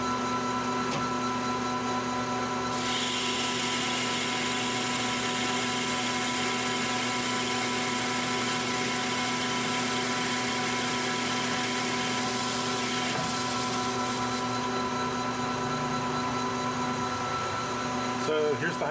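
A metal lathe cuts soft jaws for a chuck at a higher feed rate, giving a steady whine and drone with shifting tones that carries on nonstop for nearly twenty seconds, close and fairly loud.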